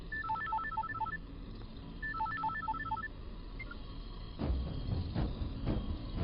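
Two quick runs of beeping telephone keypad tones, followed by a few soft clicks and thumps.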